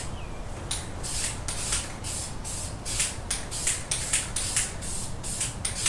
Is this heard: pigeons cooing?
no